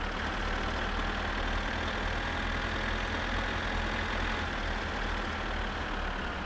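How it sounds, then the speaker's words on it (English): A tractor engine in the video game My Summer Car runs at a constant idle, a low, even drone at moderate level with no speech. "Sorry, Kurt, I couldn't hear that over the tractor engine."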